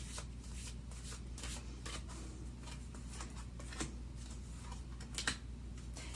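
Tarot cards are shuffled by hand, with quiet, rapid riffling and soft slaps repeating in uneven bursts over a low background hum.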